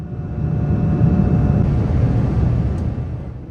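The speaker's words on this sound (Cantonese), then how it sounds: "又飛過米蘭機場嘅上空" Inside the cabin of an EVA Air Boeing 787-9 in flight out of Milan, shortly after takeoff, a constant low engine and airflow roar hums steadily with no voices.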